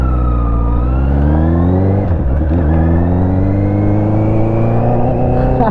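A Honda CB650R four-cylinder motorcycle with a full exhaust system hums loudly and steadily, its pitch climbing gradually as it revs, with a brief dip partway through before rising again.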